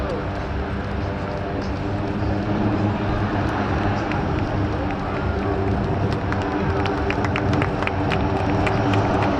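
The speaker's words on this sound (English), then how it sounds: "Props go into reverse, and it's all in the day's work." A C-130 aircraft lands at the California International Airshow in Salinas with its propellers in reverse, making a loud, continuous roar. Crowd noise and voices sit underneath.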